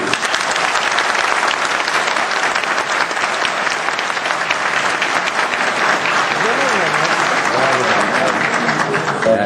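Sustained applause from an assembly audience at a meeting, thick and even clapping from many people held at a steady level throughout, with a voice briefly audible beneath it near the end.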